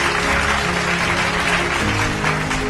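A church congregation applauds and cheers continuously and loudly, a dense wash of clapping filling the whole stretch without any break.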